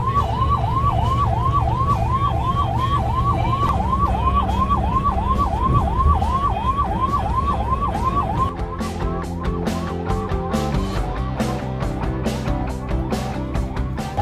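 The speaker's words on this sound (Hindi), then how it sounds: "जो सायरन बज रहा है ना वो हमारे बस के ऊपर बज रहा है" A siren wails on a Volvo bus travelling under a Delhi Police escort, a loud rapid repeating yelp cycle that continues for several seconds and then switches to a choppier pattern, with road noise underneath.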